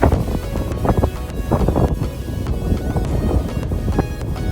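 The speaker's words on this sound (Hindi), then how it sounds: "आवाज़ से आप अंदाज़ा लगा सकते हैं कि यहाँ पे कितनी शदीद हवा है" Strong, steady wind roars and buffets the microphone without a break on the mountain heights of Jabal Samhan near Salalah, with no voices heard.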